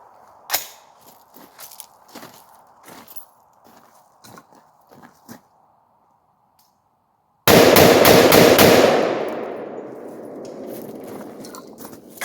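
Palmetto 10.5 inch AR-15 firing Tula ammunition outdoors: sharp close shots, then one loud blast whose roar decays over several seconds, with faint earlier reports in the background.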